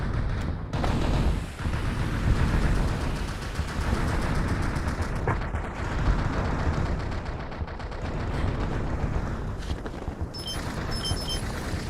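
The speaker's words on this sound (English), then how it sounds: "That autocannon will help you hold off the Zerg rush." An autocannon turret in the StarCraft Ghost video game firing continuously, dense rapid bursts of heavy gunfire with booming impacts, loud and sustained throughout.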